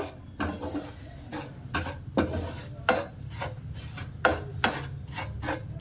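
Semolina and flour toasting in ghee, with a spatula scraping through the dry mixture in a steady series of rasping strokes at close range and a faint sizzle beneath; no voices.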